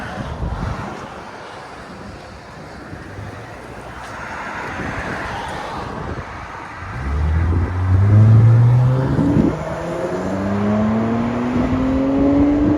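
A 2007 Honda Accord with a 3.0L V6 and muffler delete revs outdoors, its raw exhaust note climbing in repeated rising sweeps during the second half, under steady wind buffeting on the microphone.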